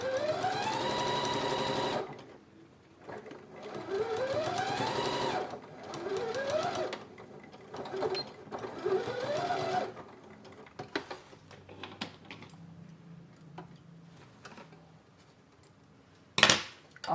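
A sewing machine stitches fabric scraps using polyester bobbin thread, running in several close, loud bursts of rapid mechanical chatter with rising whine, separated by brief stops, clicks and handling noises.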